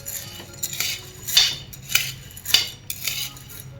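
A spoon scrapes and stirs chana dal roasting dry in a pan, making repeated metallic clinks and rustles at an uneven rhythm, close and moderately loud with no voice.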